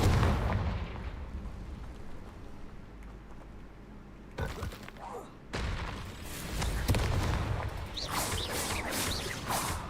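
Confringo blasting-spell explosions from the Hogwarts Legacy video game, heavy booming blasts and rumbling crackle filling the scene continuously, with a sharp break midway before more loud explosive bursts follow.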